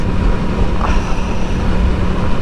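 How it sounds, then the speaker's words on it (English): A 2023 Aprilia Tuono 660 Factory motorcycle's 660 parallel-twin engine gives a steady low drone with a throaty exhaust rumble throughout, loud and continuous, with a brief higher whine near the middle. "you'll be able to hear straight away that engine, the noise, the exhaust"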